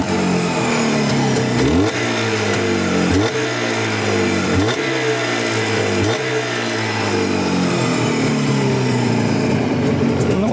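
A Jawa 638 motorcycle engine revs close and loud, its pitch rising and falling in repeated surges about every second and a half.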